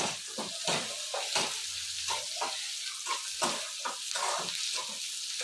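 A greens chutney made with pundi (roselle) leaves fries in a pan, giving a continuous close sizzle. Repeated scraping strokes from stirring break up the sizzle, and no one speaks.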